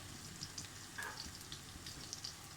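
Chicken pieces fry in a pan for restaurant-style Chinese rice, giving a steady close sizzle scattered with small crackling pops, faint overall with no talking.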